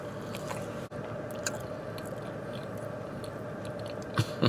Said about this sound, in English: A lot of chewing, huh?